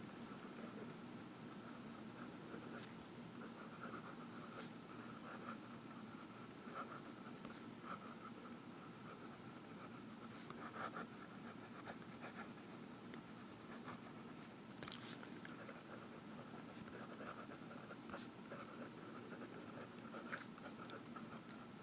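Visconti Homo Sapiens Magma fountain pen with a wet fine nib scratching across paper in reverse writing, a steady close soft scritching of continuous strokes with occasional small taps, alone and faint.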